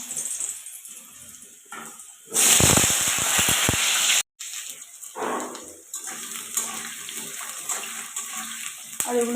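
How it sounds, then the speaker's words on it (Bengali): Potatoes go into hot oil for frying, set off a sudden loud burst of sizzling for about two seconds, then settle into a quieter, crackling fry close by. "আলুগুলোকে দিয়ে ভেজে নেব তখন আমি আলুগুলো দিয়ে দিলাম"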